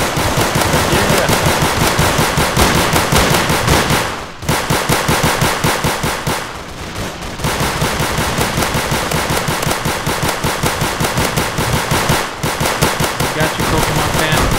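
Sustained rapid automatic gunfire in the Roblox game Zombie Rush, loud and continuous with only brief pauses between long bursts.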